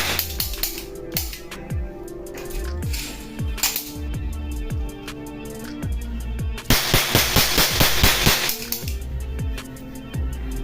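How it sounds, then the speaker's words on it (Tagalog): Full metal silver toy cap gun revolver firing caps, a run of sharp snapping cracks at an uneven pace, some close together and a dense burst near the end, loud and close with no talk. "wala tayong target ngayon kasi Cap Gun lang to at pumuputok lang"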